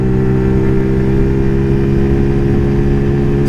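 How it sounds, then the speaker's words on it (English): A Zontes ZT125-U1 125cc motorcycle pulls hard up a hill at full throttle, carrying an 80 kg rider; its steady, loud engine drone holds a constant pitch throughout with no talking. "it's accelerating up here"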